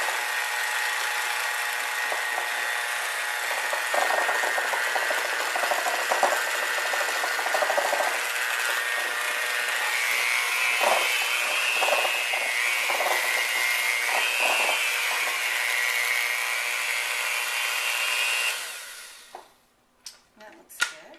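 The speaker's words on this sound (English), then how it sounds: "I'm just going to mix this with a mixer, hand mixer." An electric hand mixer whirs steadily through red velvet cookie batter, a loud continuous motor drone with the beaters knocking against the bowl, running for most of the stretch before switching off near the end with a few clinks.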